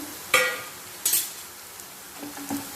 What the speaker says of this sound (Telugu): ఇప్పుడు ఇట్లా జీడిపప్పులు ఉన్నాయి కదా అవి వేసుకొని వేపేసుకుందాం